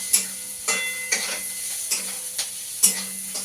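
Cabbage curry being stirred in a pan, with repeated scraping strokes of a spoon at an uneven rhythm over a steady sizzle of frying, close and fairly clear with no talk.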